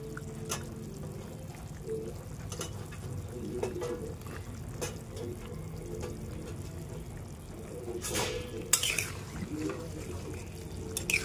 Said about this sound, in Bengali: এবার একটু নাড়িয়ে চাড়িয়ে দাও